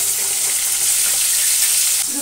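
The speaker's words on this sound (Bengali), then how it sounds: "এই যে মাছটাকে ভেজে দিচ্ছি এখন।" Fish frying in a pan gives a loud, continuous sizzle and crackle with faint stirring, steady throughout with no talking.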